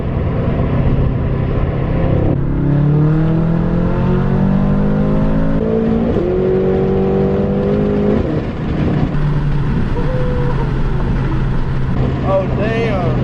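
A BMW F10 M5 running E85 fuel pulls hard in third gear from about 60, its engine note climbing steadily and loudly with a brief shift-like break, heard from inside the car with voices over it.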